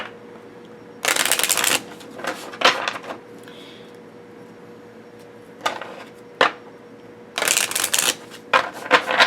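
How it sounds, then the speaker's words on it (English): A deck of Celtic oracle cards with a stiff, cardboard-like stock is shuffled in a few bursts of riffling and flicking, close and crisp, separated by quiet pauses. "I'm going to give these a good shuffle."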